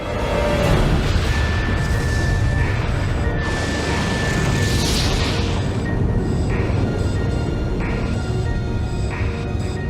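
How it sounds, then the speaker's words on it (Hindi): Explosion sound effect portraying a solar flare on the Sun: a loud, dense roar of rumbling noise that fills the whole stretch without letting up. "और जब वो ऐसा करेंगे तो होगा एक जबरदस्त धमाका।"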